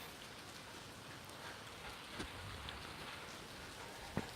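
Heavy rain pours down outdoors next to a burning fire pit, a steady, even hiss that carries on without a break. A couple of faint drops or taps are heard, and no one speaks.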